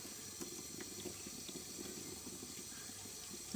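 Tap water runs steadily into a sink to rinse freshly picked mushrooms for a home-cooked sukiyaki, a continuous close splashing wash with no talking over it.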